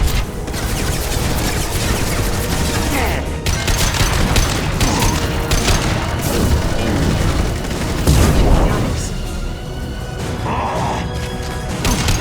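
Gunfire in the sci-fi shooter Mass Effect 2: dense, continuous bursts of weapon fire and impacts with booming hits and mechanical clatter, loud and sustained throughout.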